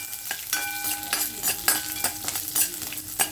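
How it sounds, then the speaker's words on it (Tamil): Mustard seeds, urad dal, curry leaves and a green chilli sizzle and crackle in hot coconut oil, with a spoon stirring and scraping the pan in quick, uneven strokes. "இது தாளிக்க போகிறேன்"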